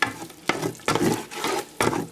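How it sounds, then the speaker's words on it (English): Loud sizzling of chicken frying in masala in a hot pan, broken by four stirring strokes that each bring a fresh burst of frying. "And last we'll add the chicken. So let this keep frying."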